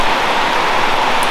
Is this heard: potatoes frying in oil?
no